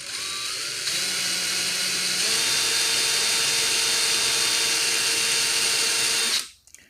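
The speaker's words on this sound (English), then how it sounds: "start drilling that hole again using a 1/8 drill bit" A power drill with a 1/8 bit whines steadily and loudly at high speed for several seconds while drilling a hole in an RC Tamiya Globe Liner truck cab, then winds down and stops abruptly near the end.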